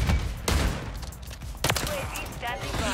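Lockwood 680 shotgun blasts in an online video game, loud sharp reports near the start and again mid-clip, mixed with other gunfire and game sounds under a talking player.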